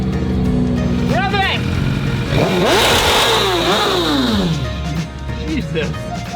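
A powerful engine revs hard and rises in pitch, roaring loudly up close, with voices talking and exclaiming over it.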